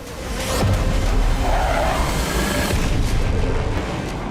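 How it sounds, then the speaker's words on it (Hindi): Bomb blast from an airstrike by fighter jets over the Tartus area of Syria, a loud sustained rumbling roar with broad crackling noise lasting several seconds, no voices. "लड़ाकू विमानों से ही बम को ड्रॉप किया गया, जिसके बाद यह धमाका हुआ"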